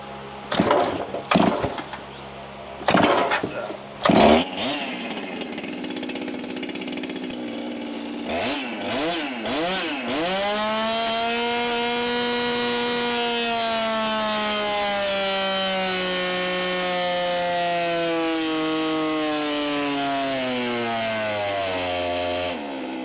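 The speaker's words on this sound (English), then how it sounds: "Let's see those dyno pulls right quick." A 366 big bore piston-swapped small engine revs hard on a dyno, with a few short bursts of throttle before a long sustained pull that climbs in pitch and holds loud and steady, then eases slightly near the end.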